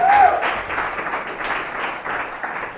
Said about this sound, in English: can I get a round of applause for Tuuka?